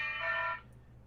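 A phone alarm rings with a bright, steady electronic tone for about half a second before cutting off, faint and alone against quiet room noise.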